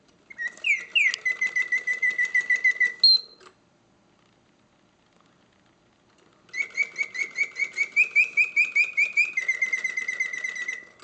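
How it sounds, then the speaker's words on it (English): A 1950s Karl Griesbaum mechanical singing bird cage warbles with loud, clear oscillating bird song in two bursts of rapid trills and whistles, separated by a few seconds of near silence; the mechanism itself stays quiet. "The bird song is loud and clear, hitting all the proper oscillating notes, yet the mechanism runs quietly."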